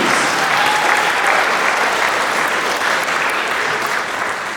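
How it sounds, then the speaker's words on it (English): An audience gives the parents a round of applause, loud, dense and sustained clapping that fills the whole stretch and tapers slightly near the end. "Can you give the parents a round of applause?"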